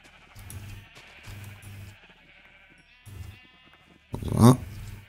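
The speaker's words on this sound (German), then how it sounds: "ich sortiere gerade die alten Schafe aus" Minecraft sheep bleat several times in a row, with short wavering cries, then a louder, closer bleat at the end, and a voice is heard faintly in between.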